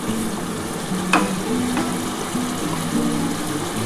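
Mustard paste meets hot oil in a pan at home while tilapia jhal is being cooked, and a loud, steady sizzle and hiss runs the whole way through, with a sharp clatter near the middle.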